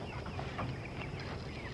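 Chickens on a small country homestead cluck softly in a few scattered, faint calls over steady outdoor background noise, with no talking.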